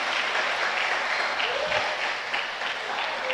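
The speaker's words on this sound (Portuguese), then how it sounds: "levanta a mão, bate palma, aplauda ao Senhor, em nome de Jesus." A church congregation claps and applauds together during a worship service, a thick, continuous wash of hands that holds steady throughout, with faint voices mixed beneath the clapping.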